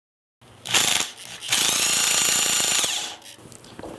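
Workshop Pro SPC 150 strut spring compressor being tightened by a power tool: a short rattling burst, then about a second and a half of steady, loud, close buzzing drive, with no talk.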